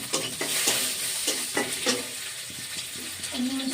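Onions sizzle in a hot frying pan while a spatula stirs them, giving repeated scraping strokes roughly every half second over a constant bright hiss, close and fairly loud.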